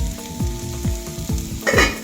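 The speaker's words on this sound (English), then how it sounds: "is to brown some onion here" Onion browning in a pot for breakfast, a steady sizzle and fry running underneath a series of regular stirring scrapes roughly every half second, close and fairly loud, with no voices.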